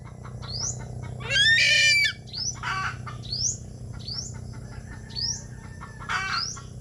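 Chickens on a rural farm squawk and cluck in short repeated calls. One loud, harsh burst comes early and softer calls follow every second or so, all over a constant low background hum.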